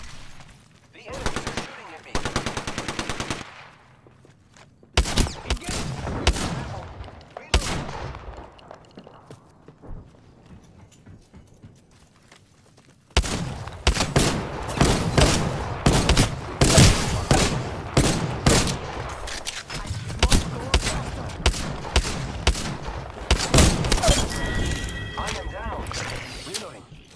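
Apex Legends gunfire breaks out in rapid bursts of automatic shots and single cracks, with a quieter lull before heavy, dense firing resumes. Voices are audible at times.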